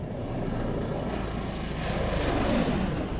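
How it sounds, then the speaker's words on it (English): An Osprey tiltrotor aircraft speeds up as its nacelles tilt forward into fixed-wing flight, giving a loud, steady, close propeller and engine drone that swells slightly toward the end. "The aircraft accelerates, leaving helicopter behavior behind and entering fixed-wing flight."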